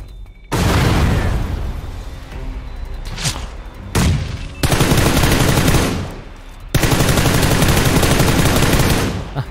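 Loud bursts of automatic gunfire in PUBG Lite on PC, with rapid sustained volleys and booming shots arriving in several separate bursts, some sharp close reports among them.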